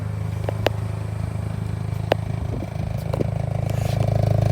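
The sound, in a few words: 2022 Hyundai i20N 1.6 litre turbo exhaust sound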